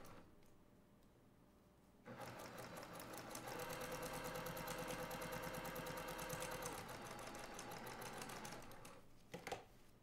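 Sewing machine stitching a quilted table runner seam, a quiet start followed by a steady rapid mechanical whirring run for about seven seconds that stops with a couple of clicks.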